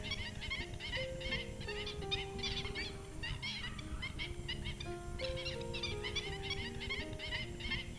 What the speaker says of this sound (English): We can see a few birds having disputes over there. Those are black-winged stilts.